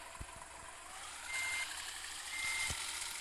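Reversing beeps from a truck in a truck-driving video game, a few faint high tones sounding twice over a low engine hum with soft thuds.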